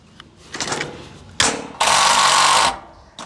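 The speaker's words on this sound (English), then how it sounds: "And now I'm gonna put a pop rivet in." A pop rivet gun sets a rivet into Colorbond steel sheeting on a tiny home build: a sharp snap, then a loud, harsh mechanical burst of about a second, fairly close.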